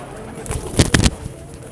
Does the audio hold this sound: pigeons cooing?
yes